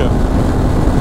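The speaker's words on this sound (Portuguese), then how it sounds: "Meu, o vento tá bravo aqui" Strong wind buffeting the microphone while riding a motorcycle, a loud continuous low roar and rumble with no breaks.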